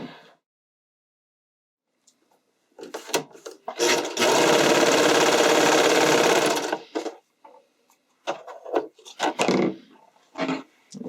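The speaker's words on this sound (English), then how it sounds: "I'm going to sew this to that top edge of the bra cup." Sewing machine stitching a strap onto the top edge of a bra cup for an underwire bodysuit: short bursts of motor whirr, then a steady three-second run, then more stop-start stitching, close and clear.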